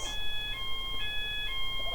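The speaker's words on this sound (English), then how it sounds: "it's oh no, smoke alarm test. They do it every week here." Smoke alarm sounds during its weekly test, a repeating electronic beep tone in short pulses about every half second, moderately faint over a background hum.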